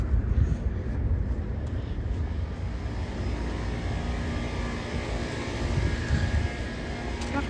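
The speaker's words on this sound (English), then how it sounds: "Plane bounced a little bit." An airliner lands at SeaTac airport and bounces slightly on touchdown, its engines a broad, steady roar heard from a distance with faint wind noise, continuous throughout with small swells in loudness.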